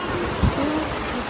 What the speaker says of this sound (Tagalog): Umulan na, guys.